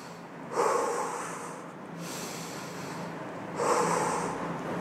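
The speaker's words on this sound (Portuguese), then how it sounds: "Expirar 3 vezes." Forceful nasal exhalations come close and clear in a deliberate breathing exercise, with two or three long whooshing breaths separated by quieter airflow.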